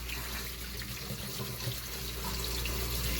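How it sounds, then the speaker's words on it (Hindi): Cold tap water runs in a soft, steady hiss and splash while strawberries are rinsed, fairly faint and continuous with no speech over it. "Cold running water."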